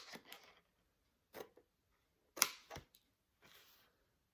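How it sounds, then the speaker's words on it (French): Scissors snip paper at an angle for scrapbooking in a few quiet, separate cuts with pauses between them. "vous allez tout simplement prendre vos ciseaux"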